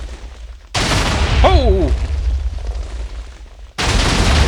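Loud, continuous rumbling blasts of many TNT blocks detonating one after another in the Minecraft video game, with a brief pause before the barrage resumes; a man's startled exclamation cuts in over the explosions.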